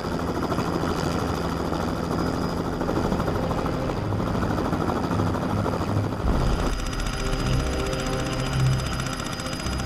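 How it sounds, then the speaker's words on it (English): Helicopter rotor thudding steadily throughout, a loud continuous chopping drone that shifts in tone partway through as the aircraft moves. "they even use a helicopter."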